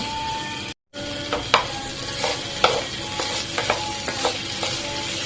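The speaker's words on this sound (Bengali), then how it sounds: "তো এইরকম গাইস নেড়ে ছেড়ে আমি ভালোভাবে একটু ভেজে নেব।" Okra frying in oil in a pan, a continuous close sizzle broken by repeated scraping stirs of a spatula at an uneven pace, with a brief gap near the start.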